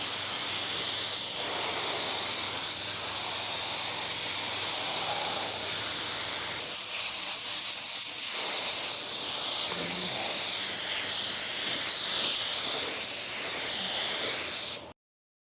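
An automotive paint spray gun lays down base coat in smooth, overlapping passes, producing a loud, continuous airy hiss that shifts briefly partway through, then cuts off abruptly at the end.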